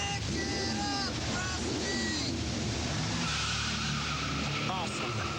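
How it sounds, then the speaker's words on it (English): NASCAR stock cars race at Sonoma, with a continuous dense engine roar and tire squeal heard under someone talking throughout. "genuine draft Rusty Wallace stock car"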